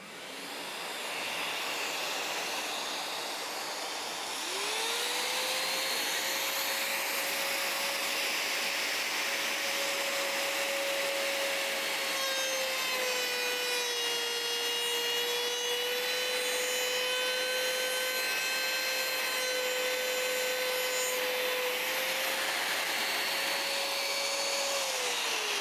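A Vevor trim router fitted with a straight, bearingless bit hums at a steady high pitch, then cuts into wood with a loud, sustained whine and rasp that holds for around twenty seconds, close and with no talking.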